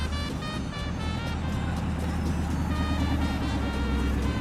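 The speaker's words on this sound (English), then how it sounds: "Look at all these cool cars rolling in." Classic 1950s cars roll past on a Havana street, a steady close engine rumble and tyre roar that holds through the whole stretch, with no voices over it.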